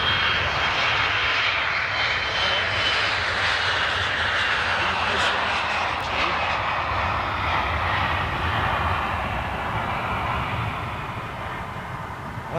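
Jet airliner engines roar through a long takeoff run, a loud, steady broadband rumble with a rising whine that holds for the whole stretch and eases slightly near the end, with no talk over it.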